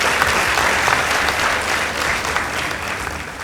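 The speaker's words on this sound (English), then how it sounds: "Let's clap for them." A school audience at a girls' high school debate bursts into sustained applause, a loud, dense and even patter of many hands clapping close by, with no talk over it.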